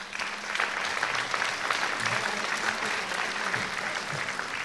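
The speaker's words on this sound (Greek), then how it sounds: "Ένα ακόμα δυνατό χειροκρότημα για να ξεκινήσει η χοροδία Αρίωνες" Audience applause at a world choir festival on musicals, a steady dense clapping from a large crowd that fills the whole clip at moderate distance, with no voices over it.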